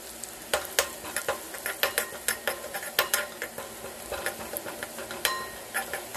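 Chili paste and curry leaves fry in a little oil over low heat, crackling and popping in sharp irregular bursts over a soft sizzle, close up, with a few clinks of stirring.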